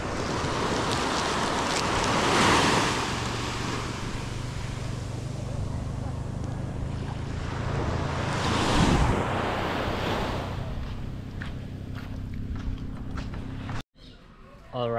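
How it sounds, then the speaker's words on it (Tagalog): Calm sea waves washing in gentle surges, with swells of surf around the start and middle amid steady wind noise on the microphone, ending in a brief cut. "Ibang dagat, kalmado."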